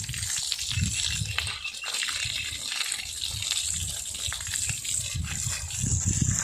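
Water gushes forcefully and continuously from a 2 HP solar water pump on an organic farm near Trichy, a loud, steady rush with pulsing low splashes and no talk.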